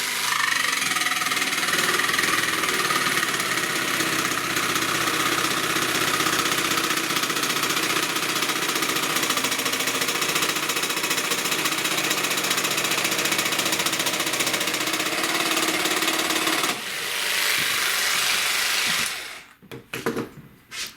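A Bosch jigsaw with a conventional blade cuts through wood, its motor buzzing in a loud, steady reciprocating drone for most of the pass, then briefly changing pitch before winding down and stopping with a few clunks.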